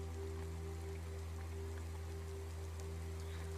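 Steady rain falling across a polluted city street, a continuous dense hiss of drops with a low constant hum underneath, no voices.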